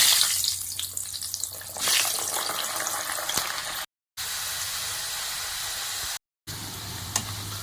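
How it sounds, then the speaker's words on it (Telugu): Amla, Indian gooseberries, fry in hot oil with a loud, steady close sizzle and hiss, broken by two brief silent gaps. "చూడండి ఫ్రెండ్స్, ఫ్రై అవుతున్నాయి ఉసిరికాయలు అనేది"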